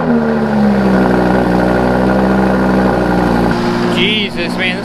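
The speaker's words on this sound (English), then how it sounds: "Take the Huracan out. Hasn't been out in probably 3 weeks. Get you a nice cold start." A Lamborghini Huracan engine runs after a cold start, a loud, steady, rumbling idle close by with a slight pitch shift near the end, while someone talks over it.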